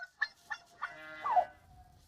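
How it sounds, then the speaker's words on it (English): Turkey hens and a turkey cock calling on a homestead terrace, several short honking calls in a loose sequence followed by a longer gobbling call, close and fairly quiet. "Turkey hen and turkey cock."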